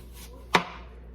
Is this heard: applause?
no